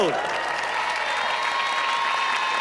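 Loud, steady studio audience applause fills a Thai television music show, dense and continuous from start to finish with no talking over it.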